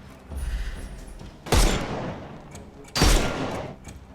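Two heavy gunshots ring out from a Sherlock Holmes Chapter One mystery game, spaced about a second and a half apart, each a loud broadband blast with a trailing decay over a low rumble.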